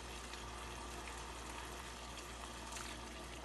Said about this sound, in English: we're going to be adding more chicken broth